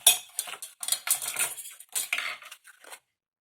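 Material for a handmade vintage-style suitcase is cut by hand, not with a guillotine, making a run of close scratchy slicing strokes and small clicks over about three seconds before stopping.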